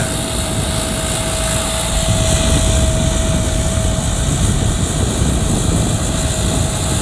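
A tractor engine drones steadily at close range while plowing a field with a rotavator, a constant hum with a faint tonal whine and no voices.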